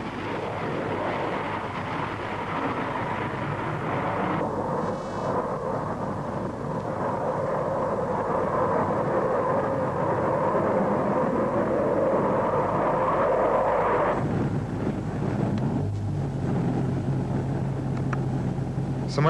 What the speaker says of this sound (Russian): Это тот же «Буран», но оснащенный 4 турбореактивными двигателями и несколько измененным шасси, позволяющими по самолетному взлетать и набирать высоту